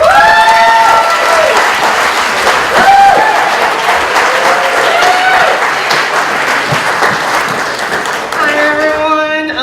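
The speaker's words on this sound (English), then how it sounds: "give a big round of applause" A loud crowd at a surf film festival applauds continuously, with bright whoops and cheers rising over the steady clapping throughout.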